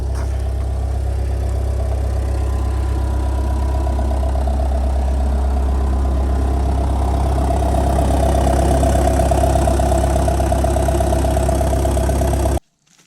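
A roughly 20-year-old skid steer's engine idles steadily after a cold start, a loud, continuous low rumble with a slight knocking texture that holds unchanged for about twelve seconds before cutting off abruptly.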